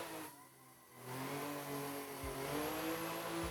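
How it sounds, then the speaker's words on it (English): A car engine in Assetto Corsa revs under throttle through a drift, dipping briefly then climbing into a loud sustained rising whine, close and alone. "I want to swing right and then give it some throttle."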